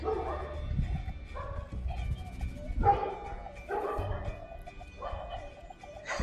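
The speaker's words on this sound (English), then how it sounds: "So we have the dogs barking." Dogs bark in repeated, evenly spaced bursts, about five or six loud woofs over several seconds, fairly close, with some whimpering tones between them.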